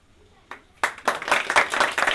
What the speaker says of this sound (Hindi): ताली में भी अगर कंपाई करते हैं तो अच्छी बात नहीं है, इसलिए जोर से बजाइए।